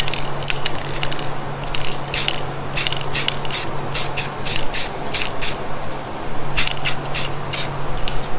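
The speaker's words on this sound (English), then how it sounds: "I'm just going to take some black spray paint and mist it as a guide coat" Black spray paint misted as a guide coat over a blazer body being prepped for paint: repeated short hissing bursts from the can over a constant low mechanical hum, close and fairly loud.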